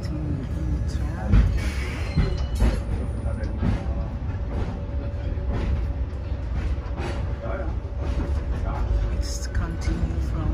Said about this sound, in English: We are sitting in the tram.